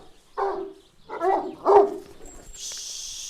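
Three separate deep barks from a Kangal dog nearby on a Kangal farm, spaced about a second apart, followed by a steady hiss of background noise.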